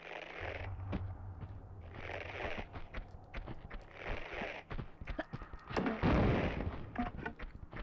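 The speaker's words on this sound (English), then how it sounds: "I'm going to try and grenade the fucker" Tomb Raider II gameplay with a run of sharp booming impacts and repeated gunfire, grenade blasts mixed with rapid shots and clattering thuds, fairly close and dense, with no speech.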